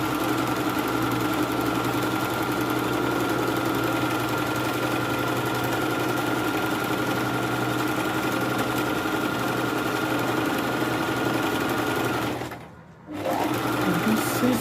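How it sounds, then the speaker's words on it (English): Sewing machine stitching an ankara senator shirt, running continuously with a steady mechanical hum and rapid needle rhythm, close and loud, pausing briefly near the end before resuming. "I'm going to sew it down now"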